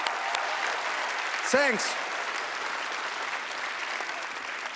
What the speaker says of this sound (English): let's big round of applause